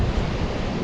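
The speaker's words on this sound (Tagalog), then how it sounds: "Takas ng alon eh oh." Strong ocean waves at Brighton beach, Otago, a loud, continuous roar of surf with heavy wind buffeting the microphone and no break.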